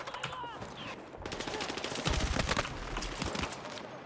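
Battlefield gameplay fills with dense gunfire, rapid machine-gun bursts and scattered shots crackling continuously from several directions, fairly loud, with game voices faintly underneath.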